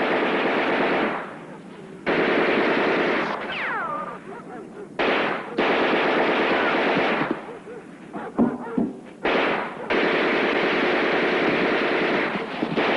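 Rapid machine-gun bursts in a 1969 war movie, several long loud volleys broken by short pauses and scattered single shots.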